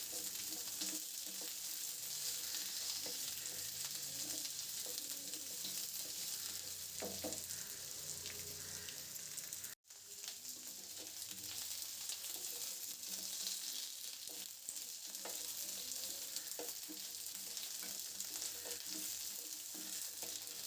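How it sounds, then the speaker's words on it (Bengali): Potato and pumpkin chunks fry in oil in a pan, a steady close sizzle with occasional stirring scrapes, continuous and alone apart from one brief break. "মিষ্টি কুমড়োটা দিয়ে এটাকেও আমি 1 মিনিটের মতন ভাজবো।"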